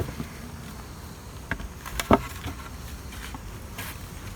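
A faint buzz of honeybees around a hive hangs over the background, broken by a few short taps and one brief clunk near the middle, with no voices.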